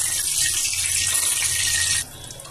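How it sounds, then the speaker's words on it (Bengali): Marinated eggplant pieces fry in hot oil for a Bengali eggplant roast, giving a loud, steady sizzling hiss up close. The hiss drops abruptly to a quieter crackle near the end, and no one speaks. "বেগুনটাকে আগে আমি ভেজে নেব ভালোভাবে।"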